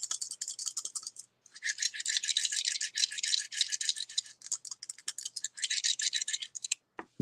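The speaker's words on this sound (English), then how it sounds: "I just want to throw some knuckle bones for you too." Knuckle bones shaken and thrown during a divination reading, giving a bright, dense rattling that runs in bursts with short pauses, close and fairly loud, with no talking.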